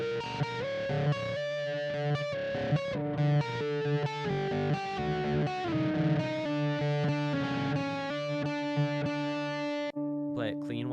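Double harmonic scale played on a distorted, effects-laden electric instrument, a dense buzzing tone stepping through sustained notes for most of the passage before a brief sliding glide at the end.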